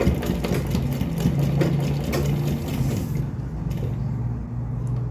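Sewing machine stitching zigzag stitches on a blouse, a steady close mechanical whirring and clattering of the needle that runs continuously and eases off slightly toward the end.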